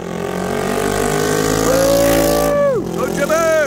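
A motorcycle engine revs hard during a wheelie, rising to a sustained high whine and then dropping sharply before climbing again, loud and close, with people cheering over it.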